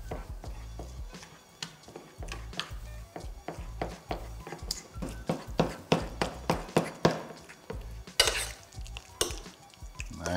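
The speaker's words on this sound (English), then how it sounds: "I'm just gonna use a fork and just mash this all together" Roasted eggplant being mashed with a fork in a bowl, a string of close, sharp taps and soft squelches in irregular rhythm, quiet overall and with no talking.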